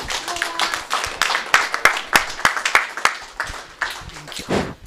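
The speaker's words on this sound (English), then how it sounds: "Let's give it a round of applause." Sparse, distinct hand claps from a small group at a project handover and launching ceremony, irregular and close, fading out after a few seconds with a faint voice underneath.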